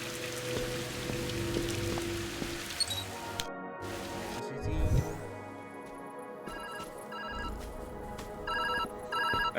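A phone rings with a repeated electronic ringtone in the video game Viewfinder, sounding in short chirping bursts over a background of steady rain, fairly quiet overall.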